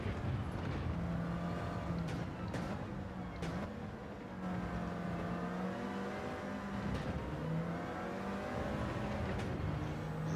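An AMG GT Black Series race car in Gran Turismo 7 powers out of a corner, its engine note climbing steadily in pitch. The loud, continuous roar plays alone with no voices.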